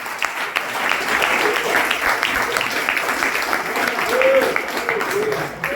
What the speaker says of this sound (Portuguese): Aplauda o Senhor nesta manhã em nome de Jesus.